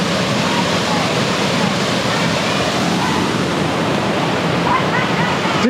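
A creek waterfall in Sydney's Northern Beaches, swollen after heavy rain, roars as a loud, close, unbroken wash of rushing water throughout.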